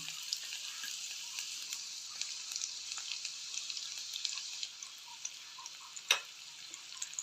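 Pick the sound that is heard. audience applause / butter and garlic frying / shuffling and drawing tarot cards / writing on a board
butter and garlic frying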